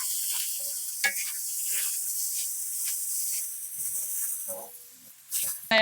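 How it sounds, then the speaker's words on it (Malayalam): Onions with turmeric and salt frying in a pan: a bright steady hiss of sizzling oil broken by intermittent spatula scrapes and stirs, with a louder burst at the very end, heard up close with no talking. "ഉപ്പിടുമ്പോൾ പെട്ടെന്ന് ഉള്ളി ഒന്ന് വഴന്ന് വരും"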